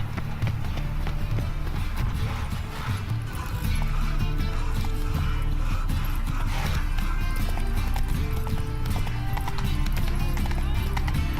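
Horse hooves gallop steadily in The Witcher 3, a continuous clip-clop rhythm under dense game sound with a voice talking over it.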